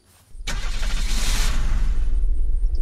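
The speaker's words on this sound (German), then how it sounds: "Ich komme mit dem blauen Auto." Blue car engine in the video game Unturned, starting with a sudden burst and then a steady rumbling run with a brief rev, loud and close.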